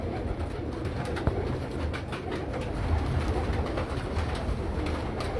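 Red-eyed pigeon cooing steadily and fairly close in an outdoor setting, soft repeated coos over a constant background murmur with no talk.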